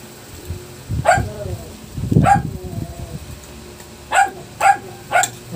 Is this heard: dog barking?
yes